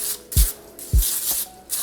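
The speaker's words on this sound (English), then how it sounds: "So what we're gonna do is go ahead and spray" Butter-flavoured cooking spray is sprayed onto muffin pans in three short, close hissing bursts, each starting with a soft click of the can.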